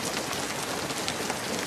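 Steady, dense rain falls on and around an unfinished house in a romantic movie scene, a continuous loud hiss of drops spread evenly with no voices.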